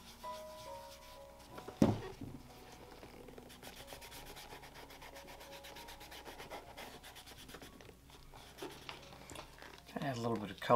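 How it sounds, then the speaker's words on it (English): Shoe toe being burnished with dark brown Angelus Coffee dye during a custom leather patina, giving soft, steady close rubbing strokes with a sharp knock early and brief handling noise near the end. "Just gonna do a little bit of burnishing on the toe with this."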